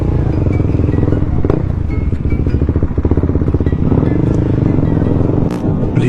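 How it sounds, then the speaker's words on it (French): Several motorcycles roll in nearby, their engines a steady low rumble with occasional clatter, while voices murmur underneath. "Il y a des motos qui se sont ramenées."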